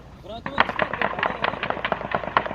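Rapid bursts of gunfire and grenade blasts crackle in quick irregular succession, a dense run of sharp reports at middling distance, with a voice speaking briefly at the start.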